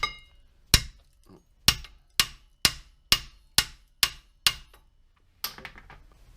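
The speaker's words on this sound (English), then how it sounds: "I know I'm using a little hammer" Eight or nine sharp metallic hammer blows strike a rusted, seized brake caliper bracket on a 2011 Subaru Impreza, spaced about half a second apart. They ring close and loud with short decays, and a scrape follows the last hit.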